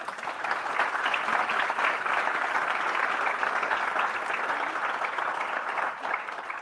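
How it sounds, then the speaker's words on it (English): A conference audience gives a warm round of applause for the panelists at a food conference, a steady, dense wash of clapping that holds evenly throughout with no talk over it. "A big warm round of applause for them,"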